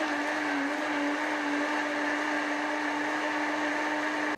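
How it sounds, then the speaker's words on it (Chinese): A kitchen food processor blends cut tomatoes into juice, a steady, unbroken motor whir with a whining hum that holds level for the full stretch, with no talk over it. "然后将切好的西红柿放入料理机里面搅成汁备用"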